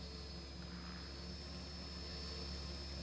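SAB Goblin 700 RC helicopter in the AccuRC flight simulator, a steady, even rotor and motor drone with a constant high whine, held at one level for the whole stretch with no talk.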